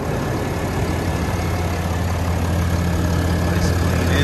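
Steady low rumble of a 2021 Ram 2500 MegaCab's Cummins 6.7 liter turbo diesel idling nearby, a continuous even drone with no revving.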